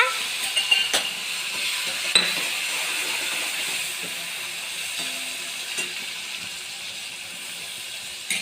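Garlic cloves, asafoetida and tomatoes frying in hot oil for vachheti greens, a steady close sizzle with occasional stirring clinks and soft spatters, no talk over it.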